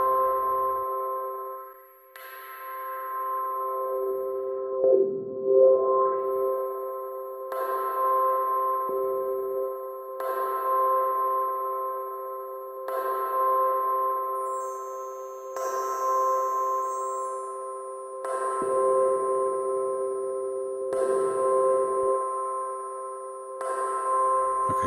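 A bright, pitched-up synth loop resampled in Koala Sampler on iOS, with a gritty, crunchy bitcrushed texture and a reverb wash, repeating steadily in sections, loud and continuous.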